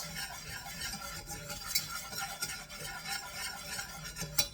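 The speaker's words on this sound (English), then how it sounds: "this whisk is finer to make sure I don't end up with particles of lumps of flour in it" A fine whisk stirs a flour-thickened sauce for chicken and rice with tarragon-lemon, the scraping and stirring steady and close with small clinks against the pan throughout.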